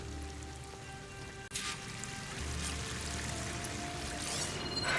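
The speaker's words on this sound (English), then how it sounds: "That waterfall must be coming from somewhere." Waterfall in the video game Horizon Forbidden West, a constant rushing, splashing roar of falling water that holds steady and swells slightly louder toward the end, with no talking.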